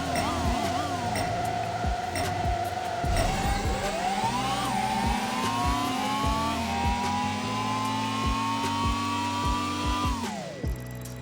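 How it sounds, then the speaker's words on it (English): A Ferrari and a Ford accelerate hard side by side in a half-mile run. Loud, near engine and drivetrain whine rises steadily in pitch through several gear changes, then fades as the cars slow at the end. "Here is a side-by-side comparison half mile run."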